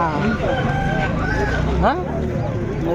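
A rooster crows loudly close by at a weekly village market, a rising, drawn-out call over busy background chatter and market noise.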